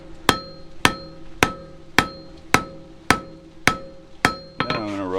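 A hammer strikes metal being forged flat into a handle, eight sharp ringing blows at an even pace, each one close and loud with a short metallic ring after it.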